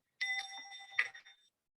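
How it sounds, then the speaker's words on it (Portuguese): A bell rings out with a bright, sustained metallic tone after being struck, then a second strike follows about a second later, both fading quickly into silence. "aqui o instrumento para tocar o sino"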